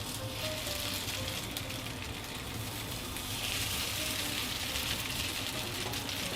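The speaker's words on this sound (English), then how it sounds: "Heat your frying pan, add some oil and cook the buns." Ramen buns frying in oil in a hot pan, a steady soft sizzle and crackle throughout, close and fairly quiet with no talking.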